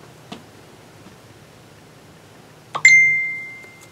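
A phone notification chime rings out once, a bright ringing tone that decays slowly, after a faint tick and in a quiet room with light rustling.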